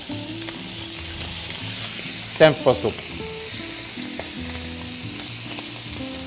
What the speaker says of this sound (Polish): Musicie uważać, bo wątróbki lubi strzelać.